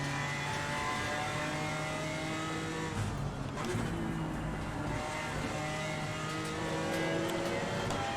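A GT4 race car in Assetto Corsa Competizione drones with a steady engine note that rises and falls through revs, with tyre noise mixed in, heard continuously without talk.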